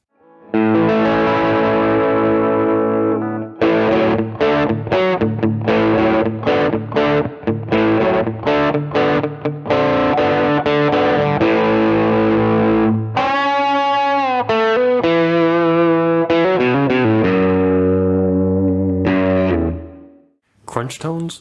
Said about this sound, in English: Crunch tones, bridge and middle